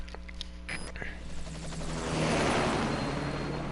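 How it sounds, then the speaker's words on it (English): A helicopter from the video game Metal Gear Solid V: The Phantom Pain, its rotor and engine noise building to a loud steady roar after a few brief game sounds. "Just get in the chopper."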